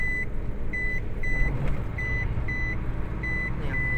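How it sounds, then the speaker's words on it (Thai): A high electronic seatbelt warning beep repeats at a steady, quick pace over the low rumble of a running Isuzu 1.9 pickup's interior. "เซ็นเซอร์รัดเข็มขัดก็ดังครับ"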